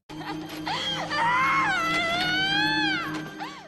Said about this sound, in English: She pants angrily, screams out fire, and cries hysterically.